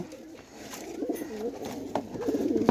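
Pigeons, among them pure white birds in a loft, give soft rolling coos that repeat through the stretch, close by over a faint background hiss.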